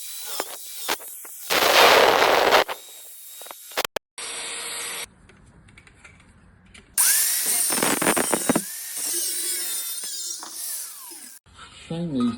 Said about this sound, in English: my plan is to cut through there, leaving this enough to joggle at the back